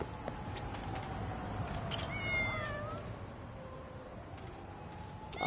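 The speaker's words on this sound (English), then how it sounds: "Cats!" Cats meowing in the video game Lost Judgment, several clear rising meows in the middle over a steady noisy game background, with a final meow at the end.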